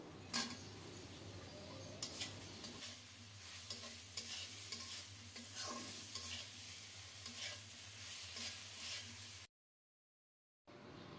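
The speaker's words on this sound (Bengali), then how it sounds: "আবারও কিছুক্ষণ টমেটো সহ মশলাটা কষিয়ে নিচ্ছি" Spice paste with chopped tomatoes and turmeric sautéing in a pan for a fish curry, with steady soft sizzling and occasional stirring and utensil scrapes, close and fairly quiet, with no talk.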